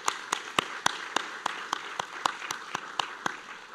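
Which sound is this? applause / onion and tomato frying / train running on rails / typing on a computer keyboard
applause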